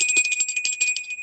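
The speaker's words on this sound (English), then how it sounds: "And Renata, we're going to go ahead and ring the bell." A small bell rung rapidly and repeatedly, a bright metallic ringing with steady sustained tones and quick strikes, loud and close, with no voices over it.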